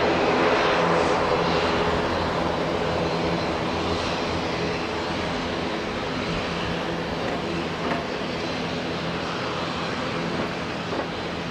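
Airliner on the Nelson service at Auckland Airport, a steady broadband engine roar that holds loud and even throughout, with no talk.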